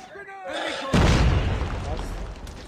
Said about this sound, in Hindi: ये लो अभी ग्रेनेड फेंकता हूँ